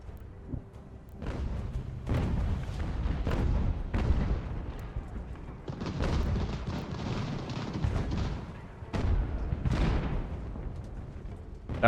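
Cannon artillery fire rolls across a battlefield in the strategy game Ultimate General: American Revolution, a continuous series of heavy booms and rumbling volleys rising and falling over about twelve seconds, dense and fairly loud with no voices.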